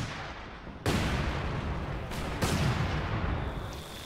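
Heavy gunfire and artillery barrage in the Company of Heroes 2 battle game, a dense, continuous roar of shots and blasts that swells sharply at about one second and again near two and a half seconds, loud throughout with no talking.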